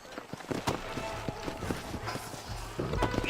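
Horse hooves clop in from the game Red Dead Redemption, a run of rhythmic thuds arriving close, mixed with game noise and spoken dialogue.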